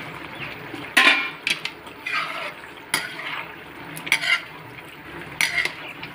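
A spoon stirs and scrapes jackfruit curry in a pan, with scattered clinks and metallic knocks against the pan between softer wet shuffling of the thick vegetable mix.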